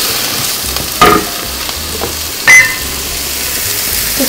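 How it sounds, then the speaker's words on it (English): Green beans sauté in oil and butter in a pan, giving a steady close sizzle with a few sharper spatters and scrapes of stirring. "And I'll let this saute."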